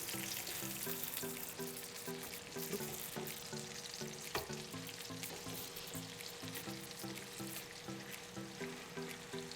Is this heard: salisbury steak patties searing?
yes